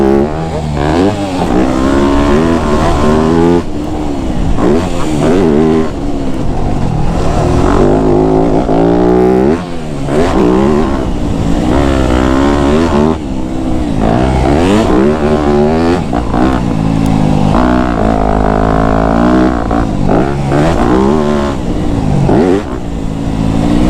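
A motocross dirt bike tears around a track in the woods, its loud engine close and continuous, revving up and easing off in constant waves.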